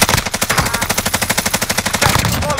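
Sustained automatic weapon fire in a video game rattles in a fast, even burst of loud, close rounds for about two seconds, followed by a brief tail with faint pings.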